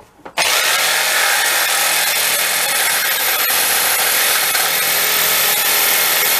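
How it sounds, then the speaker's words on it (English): Jigsaw cutting wood screwed down to a scrap board, a loud, continuous buzzing rasp that kicks in sharply after a brief quiet start and holds steady throughout, close up with no talk. "You didn't see that getting cut. You know the principle, don't you? Jigsaw."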